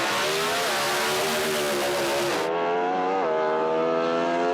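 A Pontiac GTO drag car roars down the strip on a single pass, its engine a loud, harmonic-rich howl that rises in pitch through gear changes, with an abrupt drop partway as the sound shifts.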